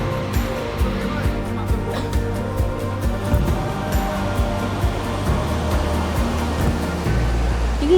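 Heavy rushing water of a large waterfall on the China border in Cao Bang, Vietnam, roars steadily nearby, a constant broad wash of sound with faint talk mixed in.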